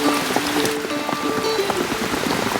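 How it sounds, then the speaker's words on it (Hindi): Heavy rain pours steadily on a rural hillside farm in the Pahadi hills, a dense, even patter of drops on surfaces close by, with no voices over it. "क्योंकि बारिश अभी कम नहीं हुई ना"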